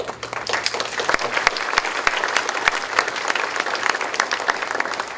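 A university audience at a State of the University address applauds steadily, dense overlapping clapping that stays loud throughout with no speech over it.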